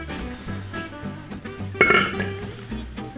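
A dough mixture for brioche cinnamon rolls being mixed in a bowl: soft clinks and taps of a utensil against the bowl, a brighter ringing knock near the middle, close and fairly loud, with no speech.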